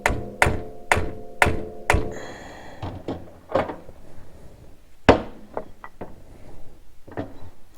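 Spacers and reducers are smacked into an Elka shock from a Yamaha Grizzly 700 SE: five sharp, loud knocks in a steady rhythm, then a scatter of lighter taps and clicks from close by.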